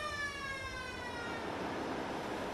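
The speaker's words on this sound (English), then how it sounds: "Evacuate the engine room immediately on hearing the fire alarm" An engine room fire alarm wails as a loud, continuous rising siren tone with many harmonics, steady throughout over a dense background roar.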